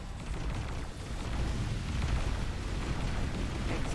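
A station blowing apart in the space game X4, heard as a sustained rumbling roar of explosion that stays dense and loud for several seconds without a distinct single blast.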